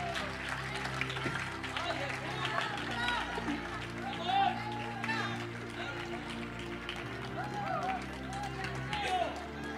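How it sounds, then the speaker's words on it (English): A church congregation claps and cheers during a lively Spanish-language service, with steady crowd applause mixed with voices and background music filling the room. "Alguien tiene que aplaudir al Señor."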